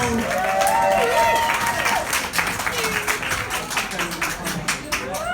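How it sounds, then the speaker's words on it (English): A wedding audience claps for the newlyweds, full applause that starts loud and gradually thins, with cheers and voices mixed in over the clapping. "Let's have a round of applause for the happy couple"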